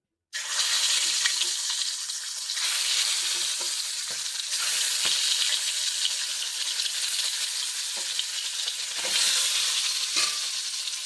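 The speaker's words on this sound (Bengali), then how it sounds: "সুন্দর করে লালগুলো লাল লাল করে ভেজে নেবো ডিমগুলো" Eggs frying in a pan in a home kitchen during a morning cooking session, giving a loud, steady crackling sizzle that carries on for the whole stretch with small pops and spatters and no voices.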